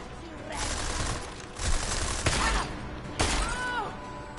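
Shotgun blasts in Deus Ex: Mankind Divided, three or four heavy booming shots spaced about a second apart over constant game ambience, each with a sharp broadband crack and a lingering tail.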